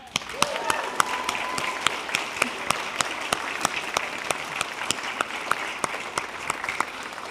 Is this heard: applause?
yes